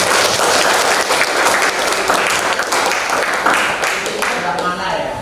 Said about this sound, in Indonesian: Oke, beri tepuk tangan sekali.